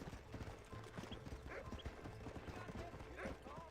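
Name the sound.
horse hooves clip-clopping in Red Dead video game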